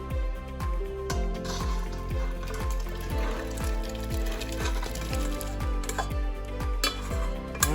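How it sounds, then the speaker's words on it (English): Bow-tie pasta and grated pecorino romano are stirred into a pot of chicken escarole soup, a steady run of close, rhythmic scraping and clinking strokes with a soft liquid churn beneath, with no talking. "Now I'm gonna add some pecorino romano right into the pasta, the little bow ties, and we're gonna add it right into the soup."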